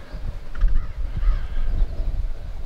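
Crows or similar birds call at a waterfront beach with a wharf and sand dunes, a few harsh, scratchy caws over a gusty, wind-buffeted outdoor background.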